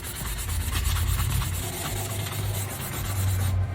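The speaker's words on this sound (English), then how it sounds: "I'm also taking a sanding block. This is a 320 grit sanding block, and I'm going to sand it one way" A steady, close rasping scrape of a 320 grit sanding block rubbing across a large wooden board, continuous back-and-forth strokes with a brief pause near the end.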